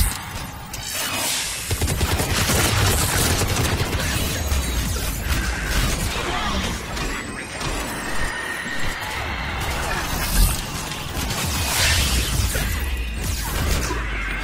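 Heavy artillery and explosive impacts in the Mass Effect game, set in a London battle with grenades, form a dense, loud, continuous roar of blasts and crashes for the whole stretch, with brief whooshes over it.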